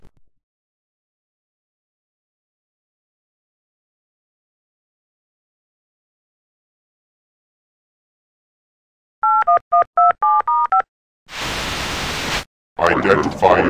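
Telephone dialing in the computer game Tex Murphy: The Pandora Directive: after long silence, a quick run of about seven touch-tone beeps, then a burst of line hiss and a crackle as the call connects.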